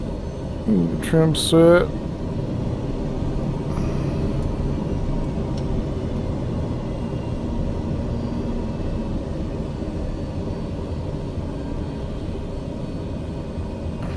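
Black Square TBM 850 turboprop in Microsoft Flight Simulator idles as a steady, even drone with a low rumble, running alone after a brief spoken cockpit callout at the start.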